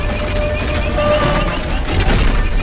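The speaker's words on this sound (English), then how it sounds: "the bullets are firing from the middle of the ship" Jango Fett's ship fires its cannons in a Star Wars film, loud rumbling blasts rolling continuously over a dense, booming space-battle background.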